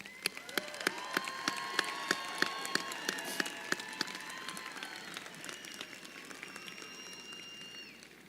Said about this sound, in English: Let's give another round of applause for our graduates.